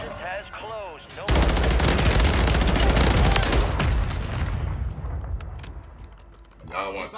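Sustained automatic gunfire in the Warzone video game, a loud continuous burst of rapid shots lasting several seconds with mechanical clatter, tapering off before a voice returns briefly at the end.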